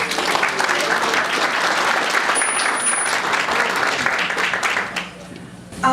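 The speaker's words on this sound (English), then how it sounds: "Give yourself a round of applause." Sustained applause from an audience at a chamber of commerce economic forecast event fills the room, dense and loud, then thins briefly near the end before a final burst.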